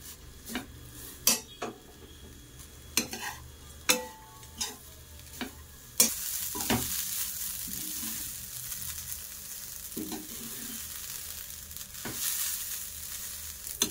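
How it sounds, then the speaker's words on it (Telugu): Grated coconut fries in a pan for kobbari undalu, with a series of spoon scrapes and clinks against the pan, then a louder, continuous sizzle that carries on to the end. "ఇది ఈ కొబ్బరి ఇలా ఫ్రై చేసుకోవాలండి"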